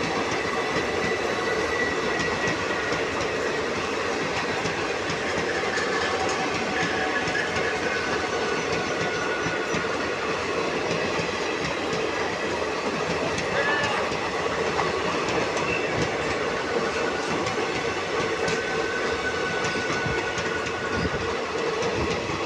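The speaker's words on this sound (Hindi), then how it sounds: "हमारे रानीखेत एक्सप्रेस जा चुके हैं।" The Ranikhet Express passenger train pulls out from platform 1 at Sojat Road railway station in a steady, loud, close rumble of rolling wagons, with continuous clatter and hiss and no pause throughout.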